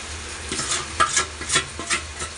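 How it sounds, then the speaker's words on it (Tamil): Close, quick scraping and stirring in a pan as spices and chicken masala are mixed into chicken curry, a few brisk strokes over a soft sizzling hiss, no speech. "இதை சேர்த்து நல்லா மிக்ஸ் பண்ணி விட்டுக்கலாம்"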